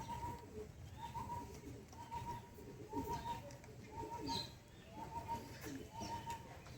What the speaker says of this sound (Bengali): আর পায়রা আকাশে দিতে না দিতেই অল্পতেই ডিপ হয়ে যায়